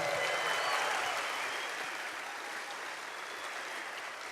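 A crowd at an evening public service awards ceremony applauds a live band, a sustained wash of many hands clapping in a large room that slowly eases in level.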